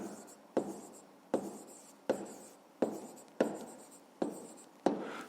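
Handwriting on paper during a fifth-grade maths exercise: soft, close scratching strokes in a steady series of about seven bursts, each starting with a small tap, with no speech.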